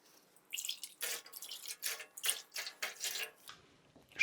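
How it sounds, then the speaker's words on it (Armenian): Garlic is tipped into a pot holding about two liters of water, making a quick series of small, close plops and splashes. "հիմա լցնենք սխտորը"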